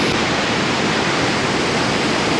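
Water released from the Hume Dam into the Murray River roars as a dense, steady rush of falling water, loud and unbroken throughout with no voices.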